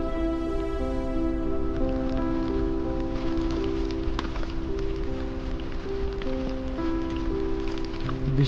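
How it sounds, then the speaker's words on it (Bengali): Rain falling steadily on a Himalayan mountain trail on the Annapurna Base Camp trek near Deurali, a continuous close patter with an underlying tonal hum and no talking. "আমি সবাই মোটামুটি বসে আছি বৃষ্টির ভিতর"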